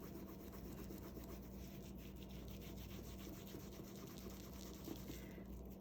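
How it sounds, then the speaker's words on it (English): A cloth rubs lightly over the strap of a Celine Nano Luggage Tote with Fiebing's saddle soap, a faint, continuous soft scrubbing that stays even throughout. "I'm not rubbing it on the strap very, very hard"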